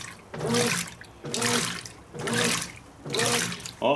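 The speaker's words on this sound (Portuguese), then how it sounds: "Olha aí, essa é a agitação normal." A Brastemp 16 kg washing machine agitator runs its normal agitation cycle, four rhythmic sloshing surges of churning water, each about half a second long, separated by brief pauses, close and loud with no talk.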